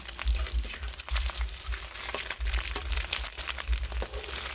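Beaten eggs for a Thai-style omelette fry in a pan of hot oil, giving a close, continuous crackling sizzle with bursts of popping and low bubbling throughout.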